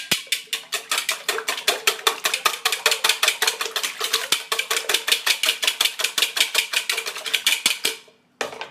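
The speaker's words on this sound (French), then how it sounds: "Je vais les fouetter légèrement." Eight eggs whisked lightly in a bowl for crêpe batter, a fast steady run of sharp clicking strokes repeating for several seconds, close and alone, ending with a brief pause.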